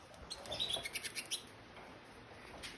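Yellow canaries in a room of about thirty birds give a short run of faint, quick chirps before settling into quiet background.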